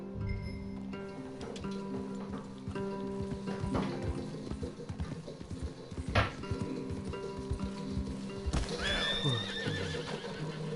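Horses neigh and whinny over steady clip-clopping hooves in the video game Red Dead Redemption 2, with a droning musical background and no talking.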